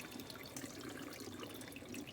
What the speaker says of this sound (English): pour the water into the drain without letting the L and R buttons go down there